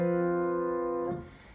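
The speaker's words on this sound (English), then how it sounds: "One of them is an F Lydian chord." An F Lydian chord struck on piano from an accompaniment, a single sustained chord ringing clearly for about a second before being released into faint room noise, with no talking.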